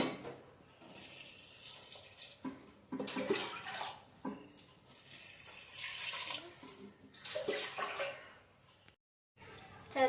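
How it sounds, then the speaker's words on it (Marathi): Water for paneer pulao is poured in a few separate bursts into a cooking pot, splashing and running close by, with quiet gaps between pours. "मी 7 ग्लास पाणी घालून घेतलेलं आहे"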